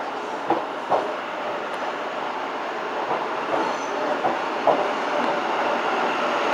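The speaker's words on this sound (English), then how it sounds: "43-058 there, clagging like hell on its way on the 1615 to Nottingham" A British Rail Class 43 diesel power car leaves London St Pancras on a Nottingham service, smoking heavily, giving a steady broad rumble of rolling stock with a few faint rail clicks and no talk.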